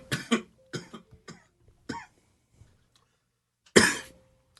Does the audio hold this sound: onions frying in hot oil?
no